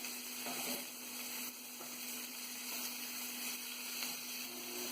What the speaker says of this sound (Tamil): பீன்ஸ் சேர்த்து நல்லா வதக்கிக்கலாம்.